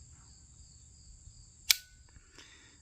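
A single sharp dry-fire click from the trigger of a Keltec P17 .22LR pistol, close and crisp against a quiet background, followed by a fainter small click of the trigger resetting.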